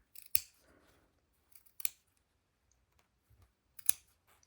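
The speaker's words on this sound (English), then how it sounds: "a regular pair of sharp scissors and just snip into the curve there" Sharp scissors make three crisp snips into a fabric seam allowance, each a quick close click, separated by quiet pauses with faint handling noise.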